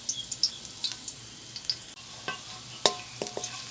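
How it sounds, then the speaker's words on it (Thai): Garlic stir-fried in a pan, a soft continuous sizzle broken by sharp clinks and scrapes of a spatula against the metal, close and alone with no talking. "ผัดกระเทียมก่อนเนาะจ้ะเนาะ"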